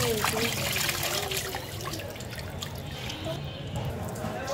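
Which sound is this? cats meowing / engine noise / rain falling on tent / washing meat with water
washing meat with water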